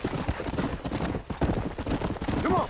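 Horse hooves clip-clop steadily in the Red Dead Redemption: Undead Nightmare video game, a busy rhythmic thudding close up, with game noise layered under it and no clear talk.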